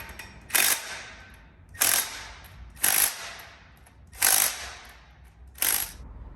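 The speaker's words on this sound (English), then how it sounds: "these flywheel bolts get torqued to 74 foot-pounds" Five sharp, evenly spaced ratcheting bursts from a torque wrench tightening flywheel bolts to 74 foot-pounds on a drift car, each burst close and crisp with short quiet gaps between.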